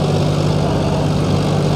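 A John Deere 5042 D (44 hp) and a Mahindra 575 DI (45 hp) tractor run side by side in a pulling comparison. Their diesel engines give a loud, steady low drone with a constant tonal hum.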